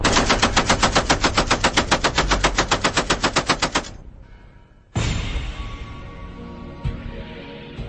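A machine gun fires a long, rapid, evenly spaced burst of loud close shots, stops for a moment, then fires again into a ringing, echoing tail.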